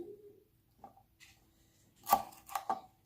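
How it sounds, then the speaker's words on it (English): A knife slices vegetables for a veggie medley on a board, three quick cuts close together near the end after a few faint clicks, close and fairly soft, with no talking. "I'm just slicing them."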